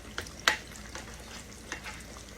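Vegetables fry in a pan while being turned, with a few light scraping stirs over a steady soft sizzle, heard close.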